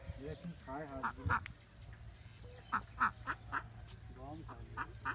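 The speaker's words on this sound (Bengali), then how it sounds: "এখন খায় হাঁসগুলো।" Ducks at a village pond quack in short repeated bursts, some loud and close, others fainter, while people talk nearby.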